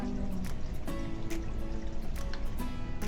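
Doogh, a salty yogurt drink, is poured into a bowl, a close, soft trickling and dribbling of liquid with small drips, steady throughout and with no talking.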